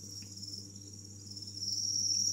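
Crickets chirp in a steady high trill, faint and continuous, over a low background hum, growing slightly louder near the end.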